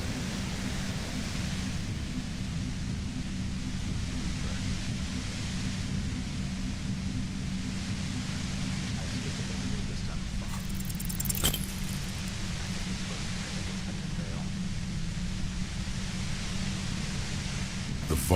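Harsh white noise hums near a compressor in the video game Disco Elysium, a dense, steady hiss over a low droning tone, with a brief crackling burst midway.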